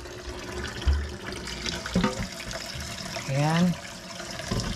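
Beef ribs being washed under a running tap, with water splashing steadily at the sink. A voice speaks briefly over the flow.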